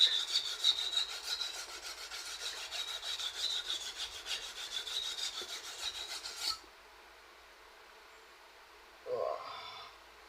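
Hard Japanese knife blade being sharpened on a whetstone, a steady rasping scrape of repeated strokes for about six seconds, then a pause and a brief soft rub near the end.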